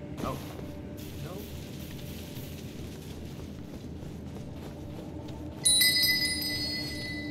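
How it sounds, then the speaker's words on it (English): A bright metallic bell rings near the end, set off by a tripwire in the video game Elden Ring, above a soft mechanical rattle and low ambient rumble. "there's a tripwire in here. It makes a bell sound."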